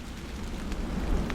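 Steady rain falls, a dense even patter of drops with low rumbling undertone, like a drizzle turning to rain in a dark forest, continuous and fairly close with no voices.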